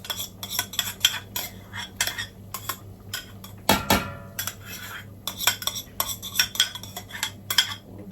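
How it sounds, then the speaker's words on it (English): A spoon scrapes and clinks against a pot while tomato puree fries, irregular stirring strokes with metallic taps and one louder clatter midway, close and clear with no talk. "So another thing is I have to keep stirring."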